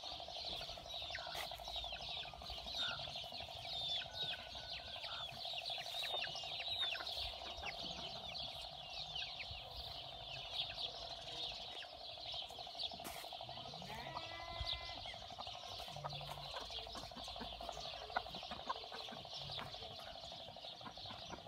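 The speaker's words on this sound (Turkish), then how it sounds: "tavuklar, kazlar." Faint clucking of chickens and geese in a quiet village setting at sunset, with a steady high drone of insects throughout.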